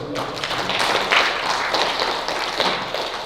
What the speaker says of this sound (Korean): 크게 박수